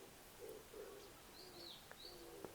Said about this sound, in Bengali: পাখির শব্দও শুনতে পাচ্ছ